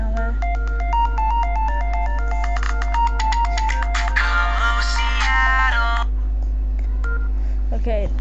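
A ringtone song plays from an iPod touch as a steady run of bright, stepped electronic melody notes, fairly loud and close, fading out near the end over a constant low hum.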